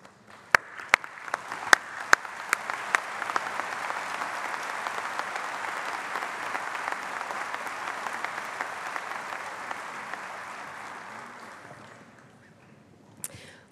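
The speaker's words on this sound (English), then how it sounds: "If they would please stand so that we may recognize them with our applause." Sustained crowd applause at a 2015 CSU Global commencement ceremony, beginning with a few sharp individual claps before swelling into a dense, steady ovation that fades out near the end.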